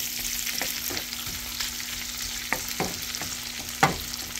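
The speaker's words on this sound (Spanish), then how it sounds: "Ya volteé los camarones, ya se cocinaron a un lado 2 minutos, se van a cocinar al otro lado por otros 2 minutos." Shrimp frying in a pan for garlic-style shrimp, a steady soft sizzle with a few sharper clinks and scrapes as the pieces are turned, fairly quiet and without voices.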